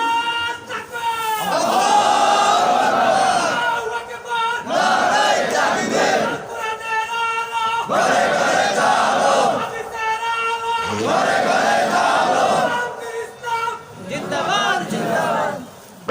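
A large crowd at a religious gathering roars a takbir response in repeated loud waves, each surge of massed voices rising and falling between brief pauses, with a lone speaker's voice heard between the chants.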